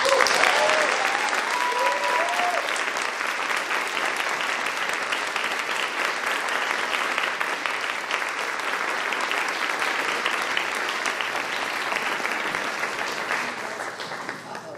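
Sustained, loud audience applause fills a hall as keynote speaker Linda Sarsour is welcomed at the Power & Privilege Symposium 2024, steady throughout and gradually tapering near the end.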